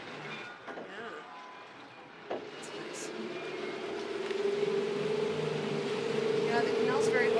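A canal tour boat's engine in Amsterdam throbs as a low, steady hum that grows louder and rises in pitch as the engine works harder to steer, with a person talking over it.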